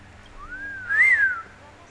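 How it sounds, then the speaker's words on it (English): A character in the Honkai: Star Rail video game whistles a short rising then falling tune, a single clear tone that swells near the middle and fades out. "I can whistle as well."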